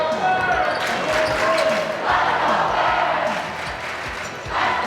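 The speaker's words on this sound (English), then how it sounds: "Very familiar chant coming up from the Margaretta cheering section of Let's Go Bears" The Margaretta cheering section packs a high school basketball gym during overtime, chanting "Let's Go Bears" in a loud, rhythmic roar. A ball thumps on the court beneath it, and some voices are mixed in.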